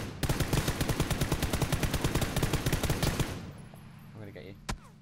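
Rapid automatic gunfire in the video game PlayerUnknown's Battlegrounds, a loud sustained string of about twenty shots lasting three seconds, then stopping before one last sharp shot.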